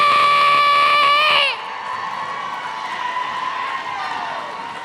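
Crowd at a roller derby bout cheering and shouting loudly, a sharp burst of whoops and screams that drops after about a second and a half into a sustained, steady crowd roar.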